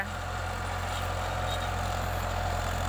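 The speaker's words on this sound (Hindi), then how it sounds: "45 HP का ट्रैक्टर है ये, 3 सिलेंडर है," A Farmtrac 45 HP three-cylinder tractor pulling a rotavator gives a steady, low diesel rumble that stays even and fairly loud from start to finish, with no voices.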